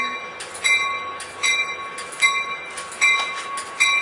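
A Coaster commuter train from Oceanside passes near Carlsbad Village Station, its wheels clacking rhythmically in regular loud beats over a steady high-pitched ringing tone.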